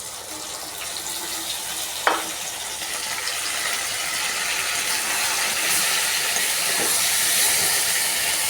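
A spice paste with tomato, garlic, ginger, Kashmiri chilli powder, turmeric and salt fries in a pan, giving a steady broad hiss and sizzle with one sharp utensil knock early on and no talking.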